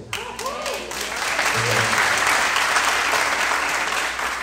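A church congregation claps in praise during a Portuguese-language service, a sustained loud round of applause under a brief voice at the start and a few short exclamations.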